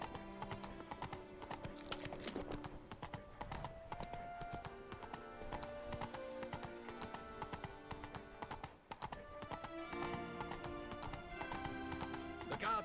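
Hooves of the horse Roach clip-clop at a gallop in The Witcher 3, with a brief whinny, steady throughout under dense game music and ambience.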